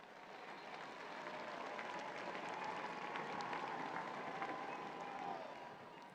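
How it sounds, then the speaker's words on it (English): A large crowd gathered below a window applauds steadily as Pope Francis appears, a dense, continuous wash of distant clapping and cheering that holds evenly throughout. "We now hear the crowd applauding as Pope Francis appears at the window."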